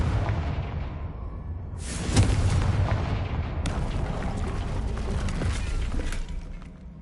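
A Confringo fire spell in Hogwarts Legacy bursts with a heavy, rumbling blast, followed by a second explosive crack and a sustained roaring, debris-filled boom that fades out near the end.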